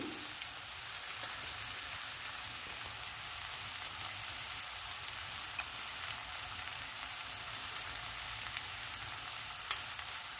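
Carrot and capsicum curry frying in a pan with a ground powder of roasted gram, coconut, chilli and salt, a steady close crackling sizzle that continues evenly without talk.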